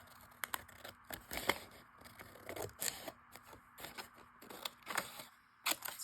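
Scissors snipping through a small upholstery fabric sample, heard close and fairly quiet as a series of short crisp cuts and rustles with brief pauses, no talking.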